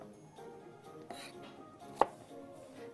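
Onion being chopped on a board while fish is prepared for an Alexandrian-style dish, with soft scattered knife taps and one sharp, louder chop near the end, with no talking.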